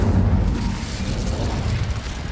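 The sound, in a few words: Incendio fire spell from video game Hogwarts Legacy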